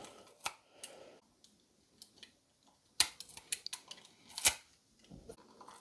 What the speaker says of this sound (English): take like a small knife here and simply peel off these stickers from the feet.